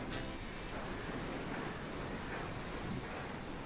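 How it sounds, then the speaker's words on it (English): Sea waves wash continuously below Aguada Fort in Goa, a steady broad surf rush with wind, heard from a distance with no voices. "Look at the waves."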